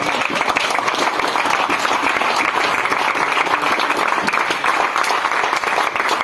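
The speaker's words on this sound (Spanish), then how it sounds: "Aplauda al Señor." Church congregation at a Spanish-language worship service applauds continuously, a loud, even wash of many clapping hands with no break from start to finish.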